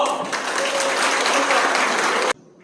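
Loud, dense audience applause opening the founding ceremony of an education cooperative in Korea, sustained for about two seconds before cutting off abruptly into quiet.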